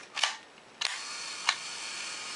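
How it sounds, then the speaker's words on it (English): Three crisp mechanical clicks from an Exakta Twin TL camera on self-timer as the mirror flips up, spaced unevenly over a faint quiet background. "It flips the mirror up, but the shutter stays closed."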